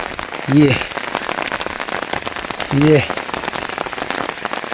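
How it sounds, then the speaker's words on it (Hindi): Steady rain falls in the fog over the mountain village of Kandai Malli, a dense, even patter on nearby surfaces throughout, with two brief voice-like calls rising over it. "बड़ा कोहरा लगा है, बारिश हो रही है, झुम झुम बहुत ज़बरदस्त"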